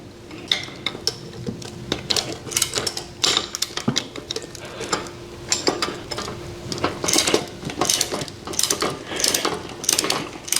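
Metal ratcheting and clicking from a wrench loosening a 19 mm axle bolt on a gantry crane caster wheel, with repeated close clanks and scrapes in an uneven rhythm, no talking.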